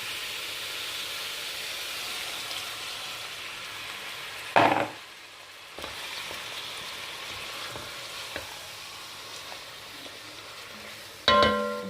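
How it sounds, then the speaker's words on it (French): Chicken and onions fry steadily in a pot while water and marinade go in, giving a continuous sizzling hiss with two sharp splashy bursts of liquid hitting the hot pan, no talking. "on ajoute l'eau avec la marinade."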